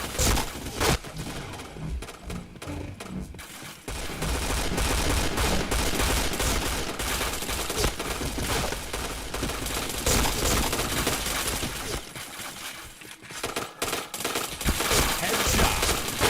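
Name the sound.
P90 gunfire in a video game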